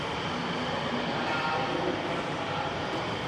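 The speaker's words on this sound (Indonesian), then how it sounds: "Wih, itu LRT-nya." An LRT light rail train at Halim station in Jakarta gives a steady, broad rumbling roar with rail noise that holds at an even level throughout, with no voices standing out.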